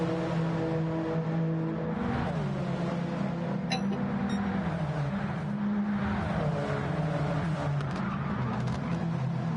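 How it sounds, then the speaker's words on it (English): A pack of GT1 race cars thunders down a straight in a racing game, layered engine drones rising and falling in pitch as they pass, steady and loud throughout, with a faint chirp around four seconds. "this huge gaggle of cars proceeds down the start-finish straight for the 12th time"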